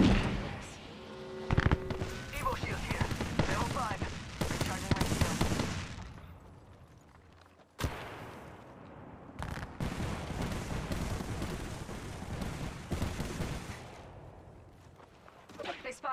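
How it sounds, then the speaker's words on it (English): Bursts of automatic gunfire and weapon blasts from the Apex Legends battle royale shooter, loud and dense through most of the stretch with a brief drop near the middle, mixed with game effects and occasional voice lines. "They spotted me. I'm taking shots."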